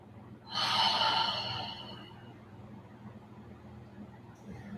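Slow breathing during a vinyasa yoga flow, one long audible breath lasting over a second that rises quickly and fades, followed by a quiet low hum in the room.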